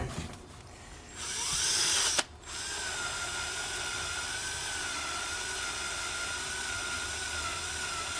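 A power tool buffs a skateboard's metal trucks with a steady high whine, rising briefly after a sharp start and then holding an even, continuous drone, with no talking.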